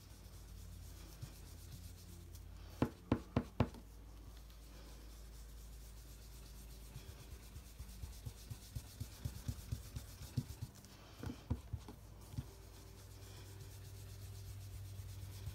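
Soft rubbing and dabbing of a brush loaded with ink on paper card, quiet and close, in short bursts of brisk strokes with pauses between, no talk.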